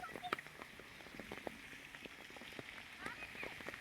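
Heavy rain falls steadily, a soft, faint wash of patter with scattered sharper drops striking a surface, and muffled voices faintly in the background.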